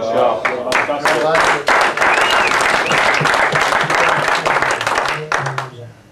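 An audience bursts into loud applause, dense close clapping sustained for several seconds before thinning out near the end, with voices mixed in.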